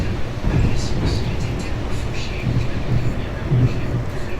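A passenger train rumbles along a city line past row houses and apartment blocks, a steady loud low roar with faint rattles and creaks as the carriage rocks, with someone speaking over the noise.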